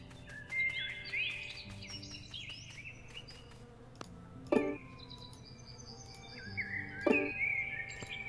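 Bees buzz in the point-and-click adventure game FoxTail, with thin buzzing tones drifting and wavering alongside brief chirps and sharp plucked game sound effects, fairly quiet and without speech.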